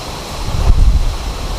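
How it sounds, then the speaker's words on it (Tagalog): Strong wind buffeting the microphone with a loud, rumbling roar that swells and eases, no other sounds standing out. "napakapayapa tapos napakalakas ng hangin"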